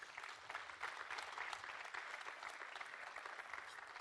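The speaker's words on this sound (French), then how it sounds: "on l'applaudit et puis il vient nous rejoindre" Steady crowd applause at the Web'Trophées awards ceremony on the Côte d'Opale, greeting a third-place category winner; dense, even clapping fills the whole stretch at moderate distance, with no voices over it.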